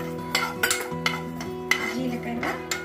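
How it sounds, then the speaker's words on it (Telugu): Flaxseeds and cumin dry roasting in a pan, stirred with a utensil that scrapes and clinks against the metal in irregular close strokes, with faint hum underneath. "మంచి వాసన వచ్చేదాకా వేగించుకోవాలి."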